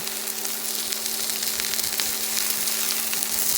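Rump steak sears in a hot pan with a loud, dense, continuous sizzle and crackle, close and alone, with no voices.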